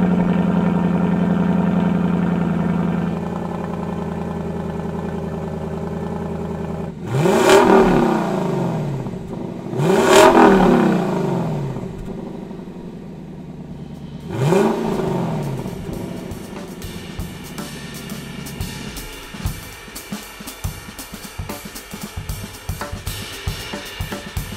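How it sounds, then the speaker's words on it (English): Lexus LC500 Convertible starting and idling, then three sharp throttle blips that rise and fall, followed by a rougher, clattering idle; loud, close and with no voices. "So let's turn the key and listen to what the car sounds like."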